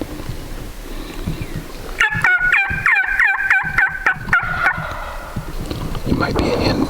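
A wild tom turkey gobbles during a spring hunt in Idaho: one clear, rapid rattling gobble lasting a few seconds, set against quiet outdoor background.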